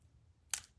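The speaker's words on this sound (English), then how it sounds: "bring in my actual snips, and I am going to cut off" Craft snips cut through the handles of a needlepoint card piece backed with adhesive sheet, giving one short, crisp close snip in a quiet room.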